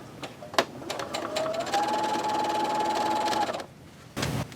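A sewing machine stitches a welt pocket, running in a steady, even whir for about three seconds before stopping, with a brief rustle of fabric at the end.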